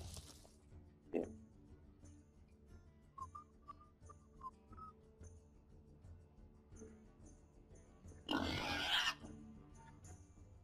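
A cartoonish pig oink from the Hearthstone card game rises among scattered chimes and game effects, followed later by a loud broadband burst.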